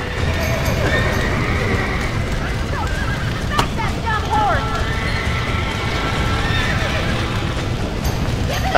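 Horses whinny and hooves pound in the Red Dead Redemption video game, with loud neighs rising over a dense, constant wash of game noise and clattering footfalls.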